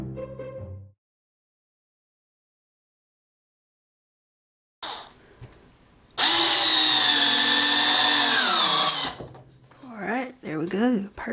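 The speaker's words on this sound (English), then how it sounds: "So I'm going to go ahead and add a few screws." A power drill drives screws into a wooden soap slab mold, one loud sustained whirring burst lasting about three seconds, followed by shorter spurts, with a voice speaking briefly at the start.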